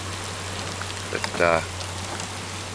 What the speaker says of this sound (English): You can't see the hills for the rain.